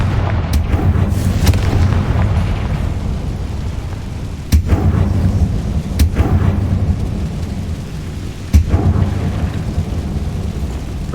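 Confringo blasting curse in a wizard video game, several heavy booming explosions at irregular intervals over a continuous low rumbling background, loud and close.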